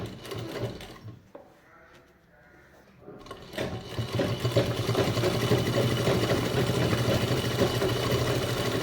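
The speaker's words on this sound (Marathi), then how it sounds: "ह्याला आता इथून दाब शिलाई द्यायची" A sewing machine stitches a double-zip purse. After a few quiet seconds with soft handling sounds, the motor starts and hums loudly and steadily to the end.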